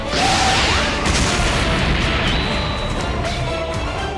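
Explosion of the moon being destroyed in Dragon Ball animation, a loud sustained roaring blast with rumbling low end and a crackling, whooshing wash that holds steady for several seconds.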